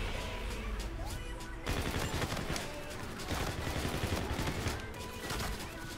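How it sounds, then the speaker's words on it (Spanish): Dense, continuous automatic gunfire from Infinite Warfare fills the whole stretch, loud and close, with overlapping bursts and a brief lull near the start before the shooting intensifies again. "¿Quién me está disparando?"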